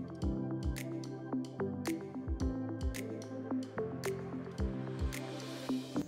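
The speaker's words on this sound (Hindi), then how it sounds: "सबसे आसान तरीका है इसे हाथों से या इस तरह से मैशर से मैश किया जाए।" Falsa berries are mashed with a hand masher in a bowl, giving repeated wet squishes and soft thuds at a steady working pace, close up, over faint background tones.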